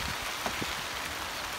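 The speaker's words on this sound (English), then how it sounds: "The snow hail combo is actually hurting my face." Mixed snow and hail pelt down outside a garden allotment shed, a dense, continuous hiss of steady patter with a few sharper ticks of stones striking, heard close with no voices.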